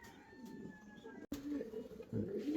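Fancy pigeons at a breeding loft coo in low, soft rolling calls, a few close repeated coos under a voice and quiet background noise.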